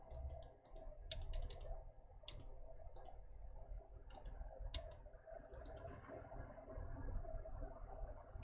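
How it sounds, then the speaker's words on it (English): Sharp computer mouse clicks come in irregular bursts and single taps over a steady low hum of room or computer noise, fairly close and moderately loud, with no talking. "You mean the mouse clicking? Because that's what's hitting."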